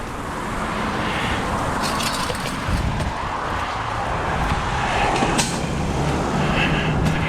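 Steady broadband rumble of a truck driving along a street on a scrap-collecting run, heard continuously from inside the cab with no talking and small swells in engine and road noise.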